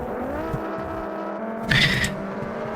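Formula 3 race car engines in the BeamNG driving game, a sustained whining engine drone holding a steady pitch, with a brief harsher burst of higher noise near the end, no talk.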